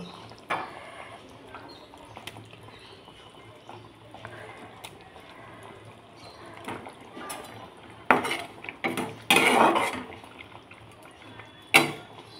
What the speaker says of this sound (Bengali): এবার আমি একে একে মাছগুলো এর মধ্যে দিয়ে দেব।